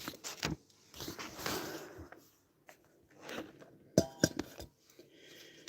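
A drinking glass clinks sharply a few times near the end of a short stretch of quiet handling noises, close and fairly loud.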